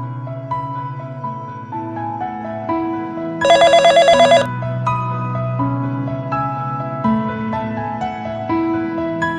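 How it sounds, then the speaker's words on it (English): A phone rings loudly in a cartoon scene, a bright trilling bell burst of about a second that rises above a melodic music track playing throughout. "Can't Rudy keep his phone in silence when dating?"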